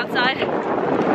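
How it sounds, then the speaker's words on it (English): Gusty wind buffeting a microphone outdoors, a rough broadband rush that stays loud throughout. "Bit windy outside"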